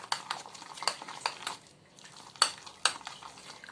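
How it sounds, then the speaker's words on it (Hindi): A spoon scrapes and clinks against a bowl while lentil batter with green chillies and onion is mixed, in a quiet series of sharp, regular strokes with a brief pause midway. "मैं सारा बैटर जो है ये मैं मिक्स कर रही हूँ"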